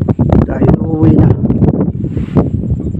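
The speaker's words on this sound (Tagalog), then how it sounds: "Ay, lakas ng hangin." Strong wind sweeps across a lake at Morong, Rizal while fishing from a boat, buffeting the microphone with a loud, constant roaring rumble that carries through the whole stretch, with a voice talking beneath it.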